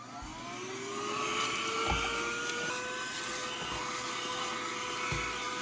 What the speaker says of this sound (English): So now I have my mini little vacuum to clean the entire enclosure from top to bottom.